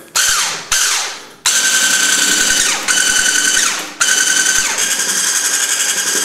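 A loud electric hand mixer whips cream for a chocolate tart, whining in several bursts that start and stop, with the motor pitch dipping and recovering as it runs.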